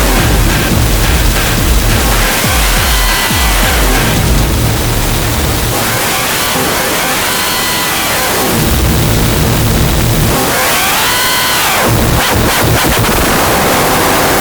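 A harsh, buzzing Arturia MiniFreak synthesizer drone with heavy wavefolding distortion, sweeping through repeated swelling and falling tones, loud and dense throughout.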